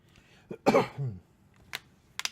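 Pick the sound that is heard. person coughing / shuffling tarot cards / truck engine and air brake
person coughing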